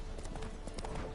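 Roach, Geralt's horse in The Witcher, trotting with quick rhythmic hoof clops, several fast beats in close succession, moderately near and fairly faint, with no voices over them.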